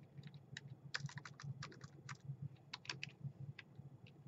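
Computer keyboard typing while editing an Arduino assembly-language program sketch, a quick irregular run of light key clicks close by over a low steady hum.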